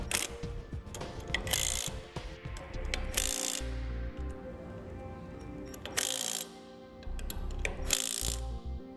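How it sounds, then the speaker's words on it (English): A socket wrench with a 21 mm socket snugs up the lug nuts on a utility trailer wheel. Close, rapid ratchet clicking comes in repeated bursts, broken by a few sharp louder clanks. "Now I'm just going to snug these up with a 21mm socket."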